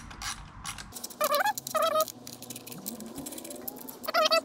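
A ratchet works loose the bolts on a 2018 Ford Fiesta ST during a bigger-injector install, its rapid pawl clicks coming in several quick bursts, sped up, with a low mechanical rumble between them and no talk.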